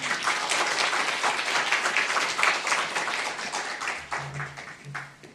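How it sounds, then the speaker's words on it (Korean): A church congregation applauds at a special New Year dawn revival service, a sustained burst of clapping from many hands that fades toward the end. "날마다 박수 받기는 처음인 것 같아요"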